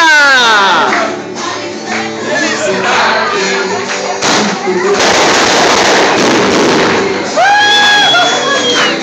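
Fireworks crackle and pop at a birthday party, loud bursts and dense crackling throughout, mixed with a cheering, chanting crowd and whistling launches near the end.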